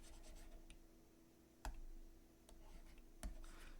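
Pen writing by hand on paper in a quiet room, faint scratchy strokes broken by a couple of light taps of the pen, close and soft, with no talking.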